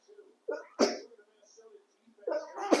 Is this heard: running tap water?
no